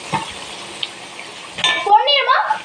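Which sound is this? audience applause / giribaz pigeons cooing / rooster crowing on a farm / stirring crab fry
stirring crab fry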